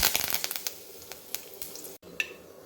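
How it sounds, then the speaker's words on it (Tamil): Mustard seeds and fenugreek splutter in hot oil in a pan, giving a run of sharp crackling pops that start dense and thin out to sporadic close spits, with no talking. "கடுகு பொரிஞ்சிடுச்சு."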